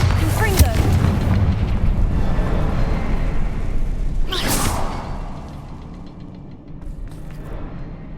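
Bombarda explosion spell in the Hogwarts Legacy video game, a loud booming blast with a rushing whoosh midway that fades into a rumbling tail, with a voice speaking over the opening.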